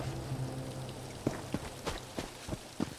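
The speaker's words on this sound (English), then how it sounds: "Oh, it's rainy." Steady rain falls in Elder Scrolls Online, a continuous patter with soft low hum in the first half, then a string of sharp, evenly spaced thuds or footsteps landing roughly every third of a second over the downpour.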